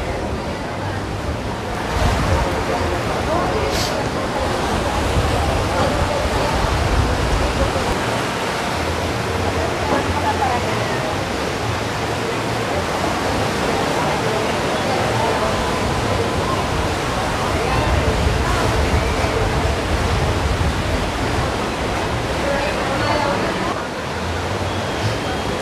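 Ocean waves break on the beach at Playa Las Tunas in Conchagua, La Unión, El Salvador, a continuous loud rushing surf with wind noise, steady throughout without a clear break.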